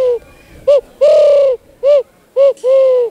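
A child imitates pigeon and turtle dove calls at an outdoor hunters' day event, giving five loud, close, hollow cooing notes of varying length separated by short pauses.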